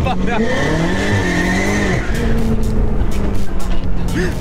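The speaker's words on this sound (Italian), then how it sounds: "non ho mai visto una macchina andare così forte per strada con questo peso" An 820 hp BMW M5 Competition accelerates hard on the road, its engine roaring loud and close as the tires squeal, with excited voices over the noise.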